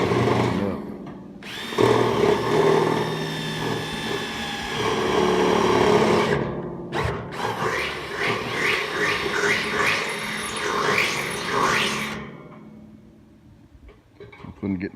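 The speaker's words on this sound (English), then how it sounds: "getting these bolt holes drilled in" A power drill bores bolt holes through a metal bracket for a homemade wood stove, whining in long, steady bursts with a short pause between holes.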